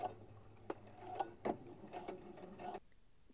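Domestic sewing machine stitching a short back stitch at the end of a dress seam, heard as quiet close bursts of rapid mechanical whirring and clicking broken by brief pauses, then falling silent.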